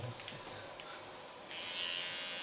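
Electric hair clipper buzzing steadily during a short platinum-blonde haircut, a soft hum at first that jumps to a louder, brighter whir midway as the small clipper works closer, with no talking.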